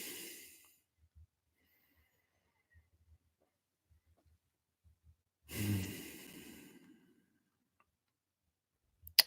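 Breathing in a calm guided session: a soft exhale at the start, a quiet pause with faint ticks, then one deep, audible breath in and slow release, close and alone.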